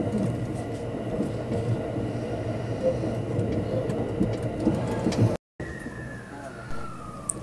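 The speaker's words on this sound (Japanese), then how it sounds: "トンガタンゴトン揺れて京都駅入線です" A Thunderbird express train rumbles and rattles steadily with rhythmic clatter entering Kyoto Station, then after a brief cut a drawn-out metallic squeal of braking wheels rises faintly over the rumble.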